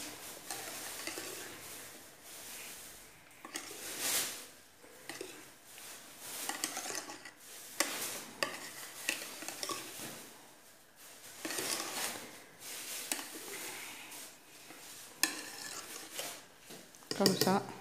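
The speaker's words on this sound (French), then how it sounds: "Vous mélangez donc un verre de poudre de chantilly avec un demi-verre de lait bien froid." Whipped cream powder whisked with cold milk in a bowl, a busy scraping and stirring clatter with bursts of utensil-on-bowl rattling that come and go steadily and up close.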